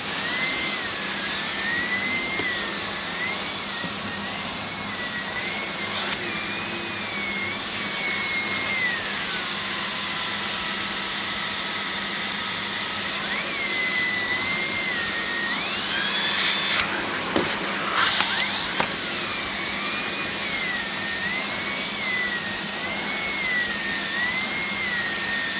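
A SEBO vacuum cleaner fitted with a turbo brush runs steadily and loudly throughout, a constant whine with a wavering pitch, briefly disturbed by a few clunks near the middle.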